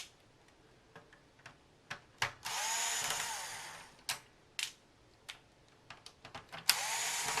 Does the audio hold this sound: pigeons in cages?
no